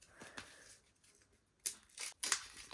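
A plastic packet of tomato being torn open from the top in a few sharp, crinkly rips, close by, with quieter rustling handling sounds in between.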